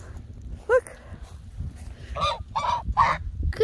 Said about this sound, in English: Good goose. Eat the weeds.